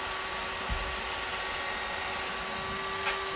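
An electric drill bores holes in a metal part of an old chair, using a worn bit that is not suited to metal. It gives a steady high whine that runs alone for a few seconds at moderate level.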